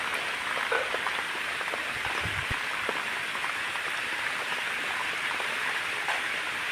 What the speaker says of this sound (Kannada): ಇವಾಗ ನೋಡಿ ಮಳೆ ಹೆಂಗೆ ಬತ್ತದೆ.